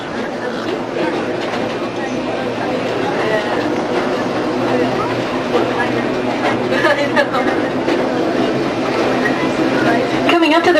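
A zoo tour train rolls steadily through the sheep and goat enclosures at the San Diego Zoo, giving a continuous rumbling drone with rattles, under a guide's amplified narration and nearby chatter.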